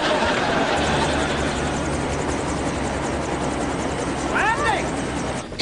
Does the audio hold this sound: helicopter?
yes